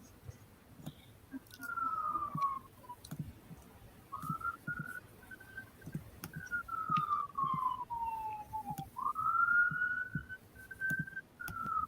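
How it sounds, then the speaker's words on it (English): A distant siren wails, its tone sliding slowly up and down in long sweeps, with faint clicks and rustling nearby. "I hear a siren."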